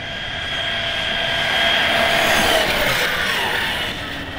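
A modified ARRMA Kraton RC car with a 15T pinion on 4S makes a speed-run pass, its high-pitched motor whine swelling loud as it nears and passes, then fading slightly.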